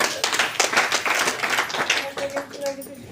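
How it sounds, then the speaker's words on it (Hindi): An audience claps at a motivational business meeting, a short burst of scattered, uneven hand claps that thin out toward the end as a voice begins speaking. "जोरदार ताली।"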